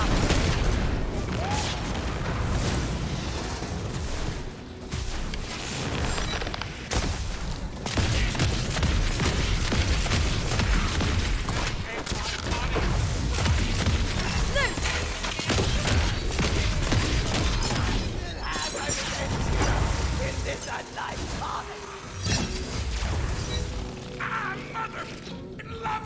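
Chaotic combat in the fantasy shooter Tiny Tina's Wonderlands, with repeated booms, crashes and gunfire layered densely and loudly for the whole stretch, no clear talking over it.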